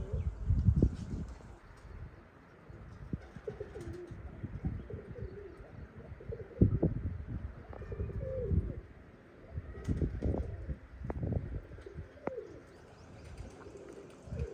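Pigeons coo in low, repeated throaty calls close by, with soft rustling and occasional faint chirps in the background.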